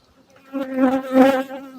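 Honey bees buzz near hives set out on a migratory sunflower apiary, a close, steady drone that swells as a bee passes nearby, then eases off slightly.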